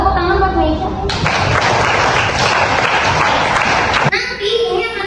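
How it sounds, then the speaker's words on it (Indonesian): A crowd bursts into applause, roughly three seconds of dense, steady clapping, with voices audible just before and after. "Buat tepuk tangan buat Meisha."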